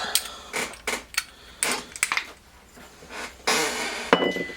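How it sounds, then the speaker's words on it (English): A hammer strikes a chainsaw crankshaft on a workbench during a teardown of a Craftsman 2.2 36cc chainsaw, several sharp metallic clinks at irregular intervals, close and fairly crisp. "You gotta hit it with a hammer."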